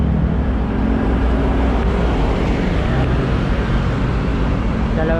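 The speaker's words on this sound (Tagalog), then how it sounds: "Grabe, ang ingay na talaga ng mga ibang motor." Dense motorcycle and traffic noise on EDSA, a busy highway, forms a steady, loud rumbling wash with passing engines blending together and no gaps.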